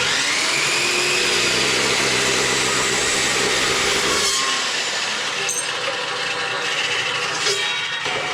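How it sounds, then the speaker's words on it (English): Loud, high-pitched whining drill grinding steadily through steel welds on a snow plow, its pitch dipping and shifting midway as it bites into metal. "It's real fun drilling out welds in these big of holes."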